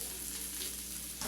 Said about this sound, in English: Make sure my oil is all over my pan. I'm smoking a little bit, so my heat's already down. My sear's going to come pretty quick on there.